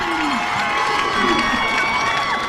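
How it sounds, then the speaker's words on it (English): A high school football crowd cheers loudly after a touchdown in a Bellingham versus Norton game, a dense continuous roar of shouts and yells from the stands. "The crowd is going wild."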